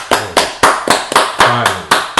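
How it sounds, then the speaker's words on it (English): A group of people clap together in a short burst, sharp slaps landing in a loose, uneven rhythm of about ten claps, close and loud, with no talking over them. "Let's clap it up."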